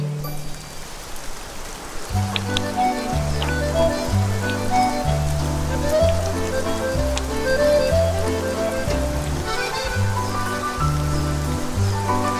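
Steady rain falls heavily and close, a dense hiss of drops on surfaces, with a thick musical score in a regular pulsing beat running underneath throughout.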